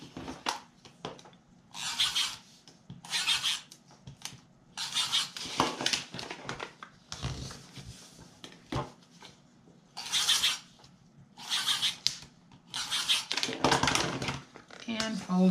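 Sticky tape is laid on and paper is folded over the edges of a handmade paper keepsake box, giving repeated short rasping, crinkling bursts in an irregular rhythm, close by.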